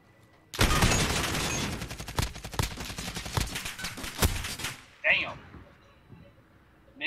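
A volley of rapid gunfire from a competitive video game match: dense bursts of shots crackle for several seconds, followed by a pause and a couple of separate reports, with a voice faintly present.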